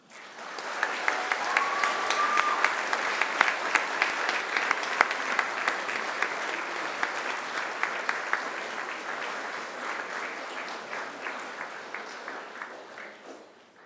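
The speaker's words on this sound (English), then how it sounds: "I invite you to give them a mighty round of applause." A graduation ceremony audience at Macquarie claps in sustained, dense applause, many hands merging into a steady wash with occasional sharper claps, fading out near the end.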